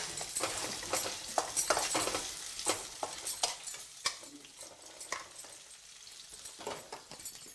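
A spatula stirs food in a sizzling pan, giving repeated sharp scrapes and clinks over a steady frying hiss, close and fairly quiet.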